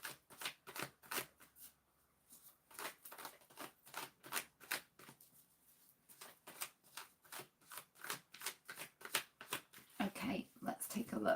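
Tarot cards crisply shuffled, flicked and laid down in a quick run of papery snaps and slides, close and clear, with a brief pause before a denser flurry of handling at the end.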